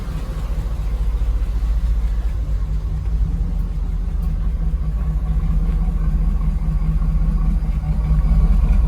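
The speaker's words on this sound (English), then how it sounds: "Now it's idling down, sounds better." A 1991 Firebird's engine idles steadily with a low, continuous rumble and a faint hum, close by and unchanging throughout, with no voices.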